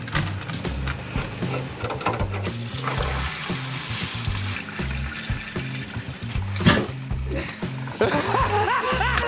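Fuel drains from the tank of a 1988 Honda CRX Si in a continuous close trickle and splash, mixed with handling knocks and clatter.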